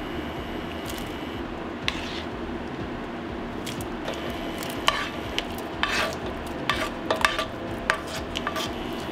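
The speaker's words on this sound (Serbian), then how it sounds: "I sada u kuvani paradajz sipam proprženo povrće." Fried vegetables tipped into a pan of cooked tomato and stirred, giving close, wet stirring and scraping with irregular clinks of a utensil against the pan over a low sizzle, no talking.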